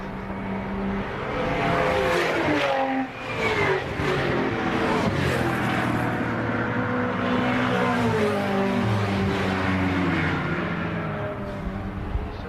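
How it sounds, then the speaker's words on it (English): V8-engined MG race cars of the BCV8 Championship thunder past at Silverstone, a dense, continuous roar of several engines overlapping and revving for the whole stretch, loud and close with no talk. "Turn your volume up right now. I'm going to let you listen to these V8s and enjoy it."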